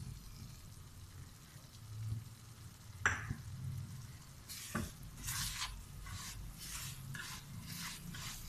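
Semolina with cardamom being roasted in a pan, a quiet low sizzle with a clink near the middle, then a run of louder rhythmic scraping strokes as it is stirred.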